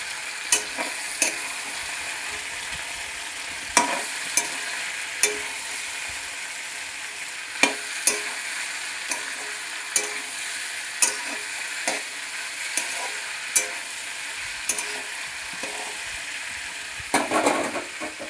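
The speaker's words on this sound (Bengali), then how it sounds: "একটু টমেটো কুচি দিলাম। এই দেখো ভাজা ভাজা হয়ে গেছে।" Bottle gourd greens with chopped tomato frying in a pan, a continuous close sizzle punctuated by sharp, regular clacks of a spatula stirring against the pan, without talk.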